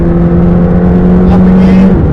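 Supercar engine at Drive Silverstone track pulls steadily under full throttle, a loud continuous drone close inside the car, with a brief rise near the end.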